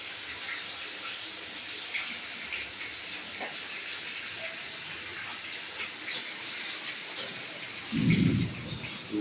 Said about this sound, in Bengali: এদিকে আবার খুব বৃষ্টি নেমেছে